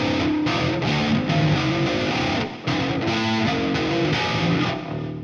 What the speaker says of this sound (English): I haven't practiced slap bass in a long time.